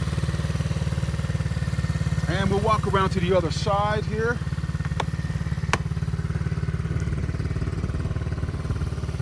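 A TaoTao Boulder 110 kids' ATV engine idles steadily and loudly throughout, its low rumble constant while a person speaks briefly over it.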